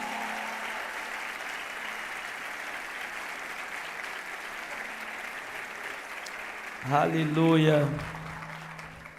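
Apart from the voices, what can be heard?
church congregation applause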